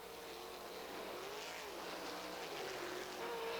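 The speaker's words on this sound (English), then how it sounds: "Kerr is now running side by side with Jerry Stone, the 21 car" A field of 1985 sprint cars racing side by side in a heat race on a dirt track, producing a steady, loud roar of engines with a slowly shifting pitch. No one speaks over it.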